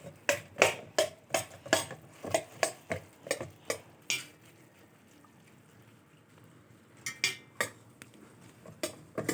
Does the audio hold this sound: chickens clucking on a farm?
no